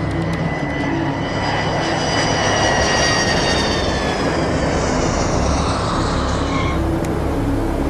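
Prisoner transport jet airliner landing on a runway, with a loud, continuous engine roar and wind rush that holds steady throughout and shifts in tone near the end.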